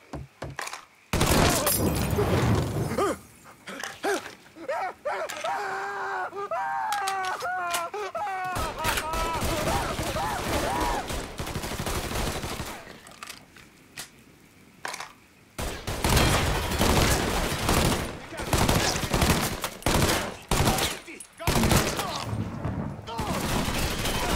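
Gunfire during a firefight in the action game Mafia 3: long stretches of dense, rapid shooting and impacts, broken by a quieter spell with voices shouting over the chaos.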